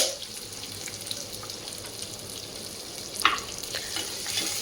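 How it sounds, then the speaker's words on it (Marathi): Finely chopped onion for kande pohe sautéing in a pan with roasted peanuts, a continuous gentle sizzle close by with a brief sharper clink of stirring partway through. "हा कांदा गुलाबीसर रंगावरती आपल्याला परतून घ्यायचा आहे"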